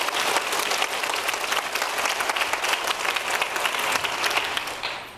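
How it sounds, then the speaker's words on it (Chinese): Sustained audience applause at a Taipei literature festival stage event, dense and steady clapping from a large crowd that carries evenly for about five seconds before tapering slightly at the end. "我们再给他们两位热烈的掌声，"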